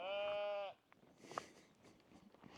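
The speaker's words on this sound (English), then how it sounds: "I'm being joined by my sheep friends now as well" A sheep lets out one loud, close bleat, then quiet outdoor rustling and faint movement follow.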